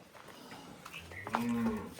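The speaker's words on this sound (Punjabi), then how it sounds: "ਲਓ ਜੀ ਗਾਂ ਤੁਹਾਡੇ ਸਾਹਮਣੇ ਆ ਗਈ ਹੈ।" A cross-breed cow lets out one close, loud moo that swells and then fades, with no talking.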